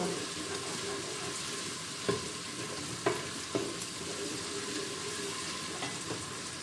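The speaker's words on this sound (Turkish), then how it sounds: "Salçamızın ekşisi gidene kadar açık kavuralım." Tomato paste frying in an open pan, stirred with a few sharp scrapes and taps against the pan over a steady close sizzle, with no one speaking.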